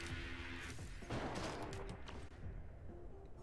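Drones firing projectiles in the Risk of Rain 2 video game, a dense rapid burst of gunfire-like shots and crackling impacts that carries on throughout, fairly quiet in the game mix.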